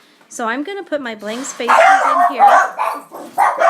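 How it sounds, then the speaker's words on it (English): Dogs bark and yip close by in short bursts, heard together with a person talking. "I apologize for the dogs interrupting our video there."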